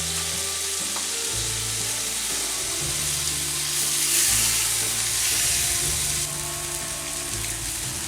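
Italian sausages and vegetables with tomato sauce fry in oil on a Blackstone griddle. A loud, even sizzle holds for the full stretch, with scattered crackles and occasional spatula scrapes.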